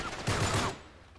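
A short, close burst of gunfire in the action game Uncharted 3: Drake's Deception, one dense loud blast that fades quickly.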